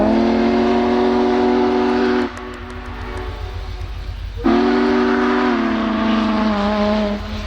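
Union Pacific Big Boy 4014 steam locomotive departing sounds two long, loud whistle blasts separated by a short pause, over a steady low rumble of the moving train.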